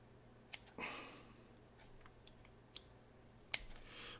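Scissors snipping the corners off a strip of adhesive tape: a few quiet, close, crisp cuts and clicks spread over a few seconds in a calm room.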